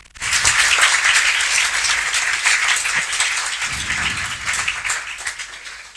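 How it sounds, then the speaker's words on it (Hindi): Audience applause welcomes newly selected SSC GD 2023 candidates: a dense, steady wash of many hands clapping that holds at an even loudness for the full stretch. "तालियों से स्वागत कर सकते हैं।"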